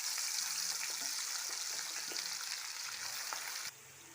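Jackfruit chilli fries in hot oil with a soft, steady sizzle and faint bubbling that suddenly quietens near the end.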